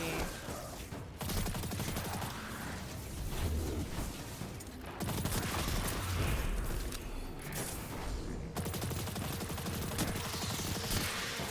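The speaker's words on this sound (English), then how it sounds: "This is a really good SMG." Rapid SMG gunfire in the video game Destiny 2, loud sustained bursts running nearly the whole time, broken by two brief pauses, over game background sounds.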